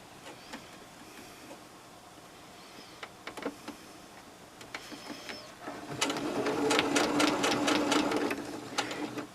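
A sewing machine stitches binding tape around the edge of slippers, starting with light, scattered ticking clicks, then running in a loud steady whirring burst before easing off; no one talks.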